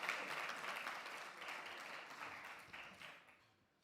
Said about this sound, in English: Tremendous round of applause for him.